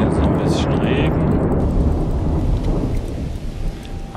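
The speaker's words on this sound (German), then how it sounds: "So, jetzt ein bisschen Regen." Rain and thunder in The Universim, a god-game, roll loudly as a dense, continuous wash of rainfall with deep thunder rumbling throughout, easing slightly near the end.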